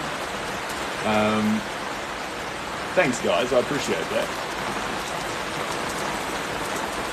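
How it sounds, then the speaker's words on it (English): Steady rain falling on an outdoor shelter in Auckland, a constant hiss of drops throughout, with someone talking over it partway through and a short tonal sound before. "if the rain's a bit noisy, I'm sorry about that"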